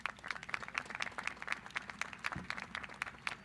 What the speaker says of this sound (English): How about another round of applause for all of our student speakers?